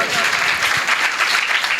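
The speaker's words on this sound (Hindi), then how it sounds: "यीशु के लिए बहुत सारी तालियां," A church congregation at a Sunday service breaks into loud, sustained applause, a dense wash of many hands clapping with no pause.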